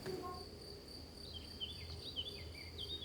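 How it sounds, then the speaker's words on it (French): Crickets chirping in a village setting, a faint steady high trill running throughout, with soft higher bird-like twitters joining partway through over a quiet rural background. "des grillons."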